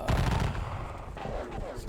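Battle of Cassville gunfire in an American Civil War strategy video game, a dense rolling rattle of musket volleys and heavier booms, loud and continuous over the short span.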